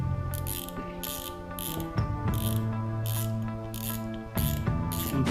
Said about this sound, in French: on va déjà enlever la bobine.